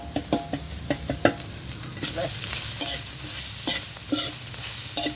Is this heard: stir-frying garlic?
yes